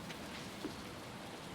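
Rain in the farming video game Stardew Valley, a faint, steady patter of falling drops over a soft background hiss, brief and quiet with no voices.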